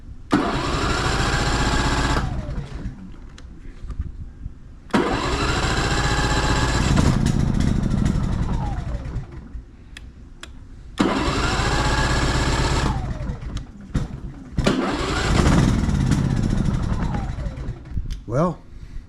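Four-thousand-watt propane-fueled inverter generator hooked to a camper's shore power, cranked and running in loud bursts, cutting out and restarting several times over roughly nineteen seconds, with a voice talking between attempts.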